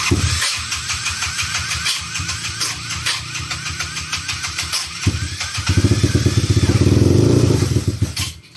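A modified motorcycle with a 213cc four-valve engine is cranked over with repeated rapid chugging, then catches and runs at a loud, steady idle up close.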